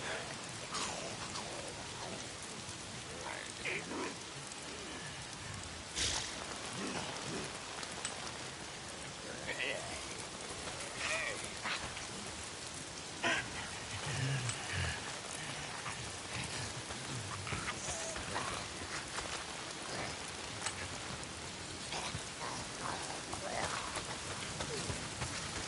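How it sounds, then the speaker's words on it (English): Steady rain falls in the Days Gone video game, a dense, continuous hiss with scattered drop impacts and occasional louder spatters, with faint speech-like sounds under it. "it's the goddamn rain. Why is it always raining?"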